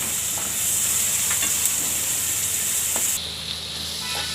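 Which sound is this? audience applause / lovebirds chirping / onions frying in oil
onions frying in oil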